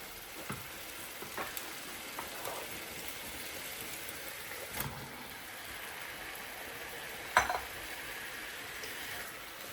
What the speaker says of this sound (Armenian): Հիմա մի փոքր տապակվեց, ավելացնեմ միսը ու նորից տապակենք։